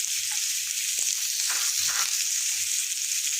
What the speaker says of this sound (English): And now you're going to stir it.